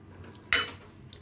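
A utensil knocks once against a pot while lentil dal with ground ginger paste is stirred, giving a single short clatter in an otherwise quiet kitchen.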